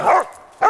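Two loud dog barks in the snow, close by, separated by a short pause.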